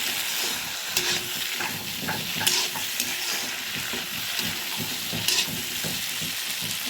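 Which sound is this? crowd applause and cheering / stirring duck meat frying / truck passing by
stirring duck meat frying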